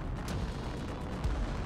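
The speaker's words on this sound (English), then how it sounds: "Let's go ahead and fire off all the rocket pods." Rocket pods launching in the block-building vehicle game Brick Rigs, a dense continuous rumble of low booms and blasts with a couple of sharper bursts, steady and loud throughout with no talk.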